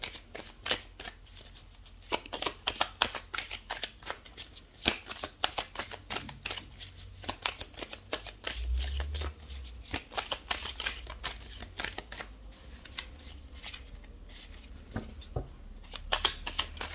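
Golden tarot cards are shuffled up close, a continuous quiet riffling and flicking with rapid card slaps running throughout.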